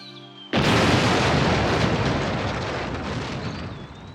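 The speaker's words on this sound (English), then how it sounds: "No one could have survived such an explosion." A bomb blast in a conference room erupts suddenly as one loud, close boom, then rolls into a long, dense rumble that slowly fades over several seconds, with no voices.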